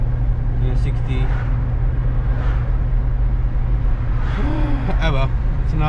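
A car with a custom catch can climbs a mountain road behind slow tourist traffic, its low engine and road drone steady and close beneath a person talking.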